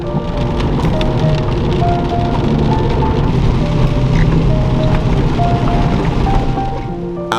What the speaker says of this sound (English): the rain really picked up